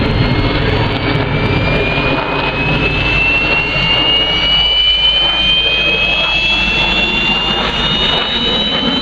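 Red Arrows jets roar overhead at the RAF Cosford airshow, a loud, continuous jet-engine blast with a slowly rising whine sustained throughout, close and dominant with no voices over it.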